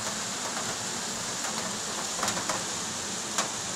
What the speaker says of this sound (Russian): Такой дождь еще минут 10-20 пойдет, то все, хана.